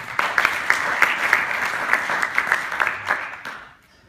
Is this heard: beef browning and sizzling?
no